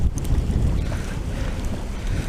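Strong wind buffets the microphone with a constant low rumble and roar, continuous and loud, with faint water noise beneath, while drop shot fishing for wrasse.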